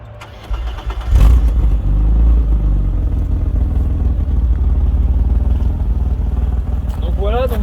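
A 1988 BMW E34 with an M20B25 engine cranks and catches, then settles into a steady low idle rumble, with a voice speaking briefly in French over it near the end.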